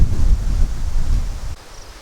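Wind gusts through a garden with raised no-till beds and T-posts, a steady low rumble of air buffeting the microphone that eases off toward the end, with no talking.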